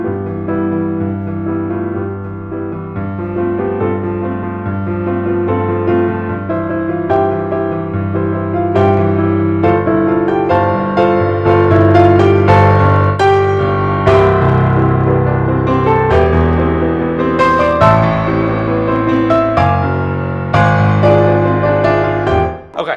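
Solo piano plays a song-arrangement transition that speeds up and swells into a big crescendo, with dense sustained chords and rolling figures building steadily in loudness before easing at the end, with no voices.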